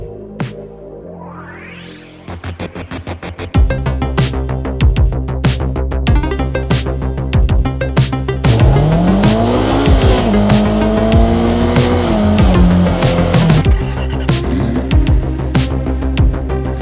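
A 2024 Polaris Slingshot SL three-wheeled roadster accelerates hard, its engine note climbing and dropping through repeated revs and shifts, loud and close, with brief tire-squeal-like edges and no talking.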